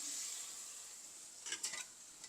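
Tamarind is stirred into an eggplant kaliya curry in a pan over a soft background sizzle, and a short burst of spoon scraping against the pan comes near the end.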